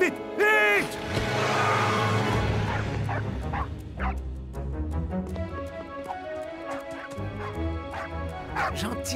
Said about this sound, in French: Gentil, le chien.